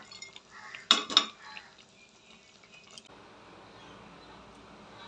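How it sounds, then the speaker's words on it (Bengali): Fried lentil cakes go into a pan of curry, giving a couple of sharp metallic clinks of utensils against the pan followed by a low, steady sizzle and simmer. "এখন ধোকাগুলো দিয়ে দিচ্ছি।"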